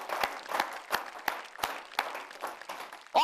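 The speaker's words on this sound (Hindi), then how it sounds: "जरा इनके लिए तालियां वालियां बजाइए" An audience at a shayari poetry gathering gives scattered, uneven applause for a poet, with a series of distinct claps and light crowd noise.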